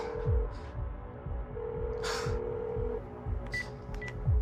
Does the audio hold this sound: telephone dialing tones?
yes